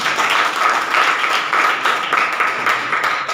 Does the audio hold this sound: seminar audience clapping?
yes